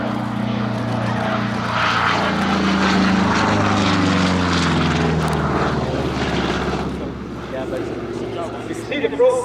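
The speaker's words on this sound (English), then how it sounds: "the P-47, like the one in the air, had done a great service to them" A Republic P-47 Thunderbolt makes a low pass during an airshow at EAA AirVenture, its big radial engine and propeller roaring steadily and rising, then fading away, while an announcer talks over it.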